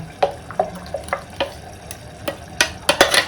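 Smooth ground paste is scraped and transferred into a non-stick pan, heard as a series of soft, wet scraping and stirring strokes, regular and close, growing busier toward the end.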